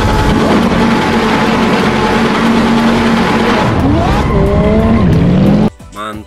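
A Lamborghini race car engine roars loudly with rising and falling revs and a brief tire squeal, then drops away abruptly.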